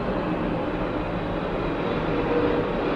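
An airplane passes low near LAX airport, a loud continuous jet roar that rumbles steadily and swells slightly toward the end, with no talking over it.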